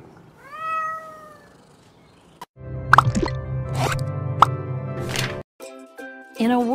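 A house cat meows loudly and close by with rising drawn-out cries, mixed with other household sounds and a short burst of talk in between.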